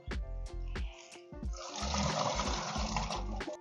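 Water gushes and gurgles as an RV black tank drains with a water hose running, a close splashing flow building partway through, accompanied by rhythmic knocking or tapping sounds.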